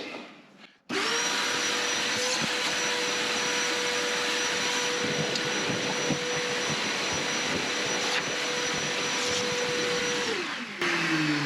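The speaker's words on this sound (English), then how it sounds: "I'll do something with the vacuum itself, because that's quite noisy" A vacuum cleaner fitted with a generic hose switches on and runs with a loud, steady whining roar for about ten seconds, then winds down as its motor pitch drops.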